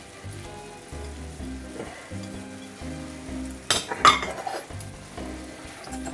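Al dente spaghetti alla puttanesca tossed with oregano leaves and parsley in a hot pan, a soft sizzle under rhythmic scraping stirs and a few sharp metallic clinks of utensil against pan, with no talking.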